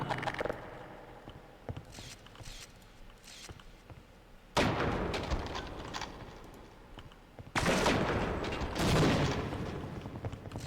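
Grenade blasts in Half-Life: Opposing Force, two heavy booms at moderate distance that each leave a long rumbling roar, set against scattered background gunfire.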